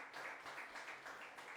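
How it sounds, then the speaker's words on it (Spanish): A church congregation claps together in a quick, rhythmic burst of applause, faint and somewhat distant, with soft murmuring underneath. "Dele una ofrenda de palmas al Todopoderoso en esta hora."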